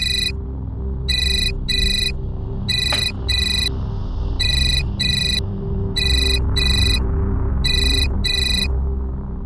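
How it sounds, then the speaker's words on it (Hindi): A phone rings loudly in repeated double bursts of electronic tones, steady and close, with a low background hum and no talking. "तुम्हारा फोन बज रहा है।"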